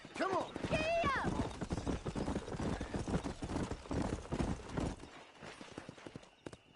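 A horse's hooves clip-clop at a gallop in Skyrim, a steady rhythmic pounding heard under continuous talking and a loud whinny near the start, fading out at the end.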